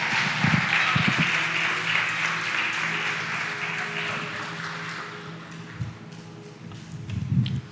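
A church congregation claps together in a dense, continuous wash of hand claps that slowly fades, with faint voices and low murmuring underneath.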